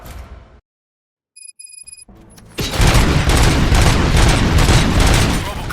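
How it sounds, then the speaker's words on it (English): Gunfire in the video game RoboCop: Rogue City, a sudden loud, sustained burst of shots that erupts after a brief near-silence and a few beeps, staying dense and heavy to the end. "Gunshots? What's going on?"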